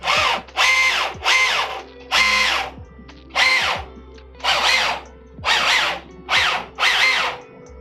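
A 3D-printed MOG RC truck kit drivetrain whirs with its axles installed, running in about nine short bursts of loud, high-pitched gear whine that rise and fall with brief gaps between them. No one speaks.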